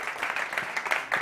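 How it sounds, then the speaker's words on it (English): Conference audience at a startup competition applauds steadily for a brief moment, a dense wash of clapping heard at moderate distance with no speech over it. "Big applause."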